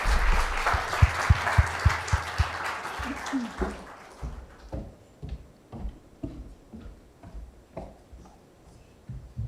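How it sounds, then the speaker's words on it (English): A conference audience at a quality-standards event at UNAM applauds loudly for the next speaker, and the clapping thins out into a few scattered claps and light knocks. "help me to receive Sam with an applause"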